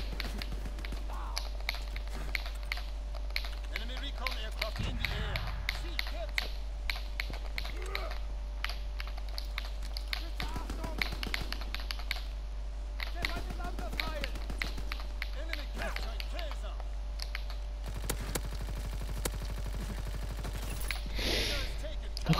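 Call of Duty: WWII gameplay with repeated bursts of gunfire, rapid cracking shots and short volleys scattered throughout, under a continuous low hum and someone talking over the action.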